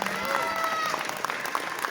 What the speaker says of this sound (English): Let's get a big round of applause for our winners